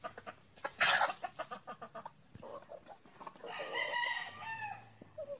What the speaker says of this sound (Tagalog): yan ang mga cockerels po namin.